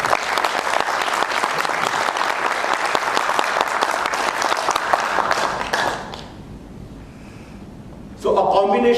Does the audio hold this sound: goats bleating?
no